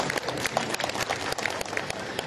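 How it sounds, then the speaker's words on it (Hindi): Audience at an Urdu book fair applauding, dense rapid clapping from many hands, close and steady for a couple of seconds. "उनके लिए एक बार जोरदार ताली बजा दी।"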